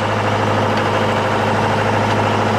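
Sailboat auxiliary engine idling steadily after starting up, a loud, constant low droning hum with a strong tonal throb, continuous and close, with no talk over it.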